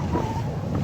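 Twin-engine boat speeding across the sea near Boracay, a brief, steady engine drone mixed with rushing water and wind buffeting the microphone.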